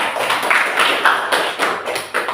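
Children in a classroom clap their hands together in a quick, uneven burst after naming tools used to make a study desk from scrap wood. The claps are close and dense, with no voices over them.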